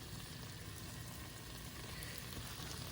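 A pound of beef browning in batches in a hot pan for a beef, mushroom and Guinness pie. It makes a steady, dense sizzle and crackle with no pauses, close and fairly loud, and no voices.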